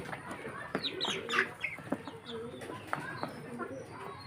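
Several Fayoumi chickens cluck and chirp in short bursts close by while being fed in the afternoon, a busy overlapping chatter with faint background noise.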